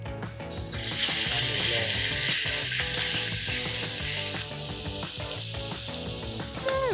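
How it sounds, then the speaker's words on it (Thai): Pork fries in a pan of hot oil with a loud, bright sizzle that runs throughout, punctuated by clinks and scraping of a utensil, easing slightly toward the end without any talking. "เราจะเอาหมูนะ ทอดในกระทะให้สีสวยก่อน"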